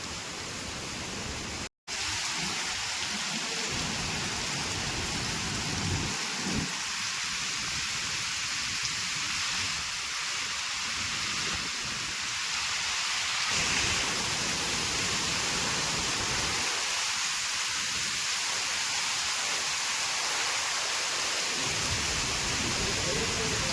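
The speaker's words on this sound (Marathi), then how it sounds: "खूपच पाऊस लागलो. वादळ पण आहे बघा." Heavy unseasonal rain in a Konkan village during a thunderstorm with strong wind, a broad roaring wash of water that swells and eases in gusts, steady and loud throughout, with one brief dropout near the start.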